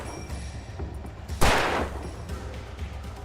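A single sharp gunshot fired in a video game, a loud close blast with a short fading tail standing alone over a low background hum.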